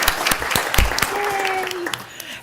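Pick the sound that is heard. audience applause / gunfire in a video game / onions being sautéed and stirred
audience applause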